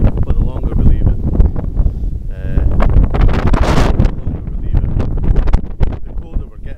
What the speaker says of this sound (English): It is very windy.